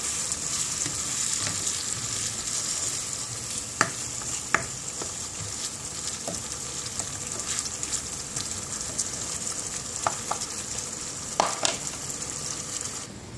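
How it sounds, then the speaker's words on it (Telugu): Tomato pieces with turmeric, salt and chili cook in a pan for tomato rice, giving a steady soft sizzle with a few light clinks and stirring sounds and no voices. "టొమాటో ముక్కలు వేసి ఒక్క నిమిషం మగ్గనివ్వాలి. తర్వాత పసుపు ఉప్పు కారం వేసుకుని ఒకసారి తిప్పుకొని మళ్ళీ మూత పెట్టి మగ్గిద్దామండి"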